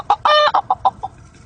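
A rooster gives a quick run of close, loud clucks: one longer drawn-out squawk followed by several short clucks that fade in strength, with no voices.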